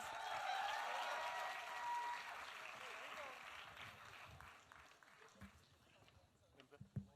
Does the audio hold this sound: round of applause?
yes